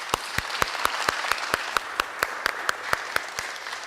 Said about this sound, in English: we just applaud everybody that's been recognized one more time